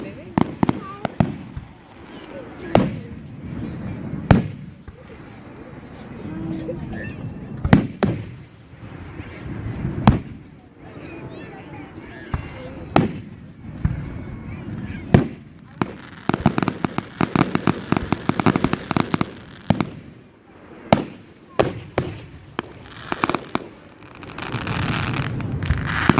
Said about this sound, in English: It's fireworks, baby.